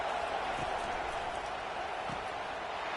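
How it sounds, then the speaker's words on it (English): Stadium crowd roars in the NCAA 25 college football video game, a dense steady wall of noise at even loudness throughout, with a commentator speaking over it. "This crowd bringing the energy and noise early"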